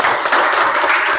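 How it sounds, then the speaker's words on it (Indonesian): A classroom of students in an Indonesian school lesson clapping together, a loud, even burst of many hands lasting just over a second. "Tepuk tangan untuk kita semua."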